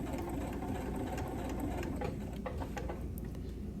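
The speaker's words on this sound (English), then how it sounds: "Then you stitch in the ditch for the best finish." Sewing machine stitching in the ditch along a folded seam on a wrap skirt, a continuous close rapid whirring hum, steady and fairly loud, with light ticks toward the end and no speech.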